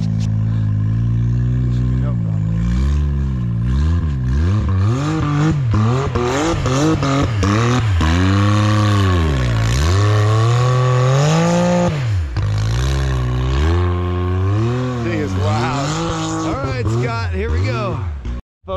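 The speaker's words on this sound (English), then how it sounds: "Let's get some wheels spinning." Polaris RZR and Can-Am X3 side-by-sides wheeling in snow, engines revving hard in repeated rising and falling surges as the wheels spin, loud and close, with people talking and shouting over the noise.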